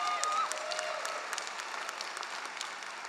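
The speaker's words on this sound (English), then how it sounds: "There can be applause for that." Applause fills a hall at a law school convocation: a crowd of many hands claps in a steady, moderately distant wash for a few seconds.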